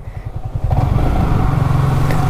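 Motorcycle engine revving inside a highway tunnel, likely a Yamaha R15, a loud close throaty rev rising and holding with a steady pulsing drone and tunnel reverberation.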